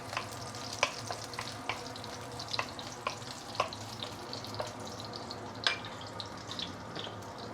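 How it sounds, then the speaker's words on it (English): Ginger sizzles steadily as it sautes in a hot pan, a continuous crackling fry with occasional sharp pops and stirring scrapes, close by with no talk. "Let's saute the ginger a bit."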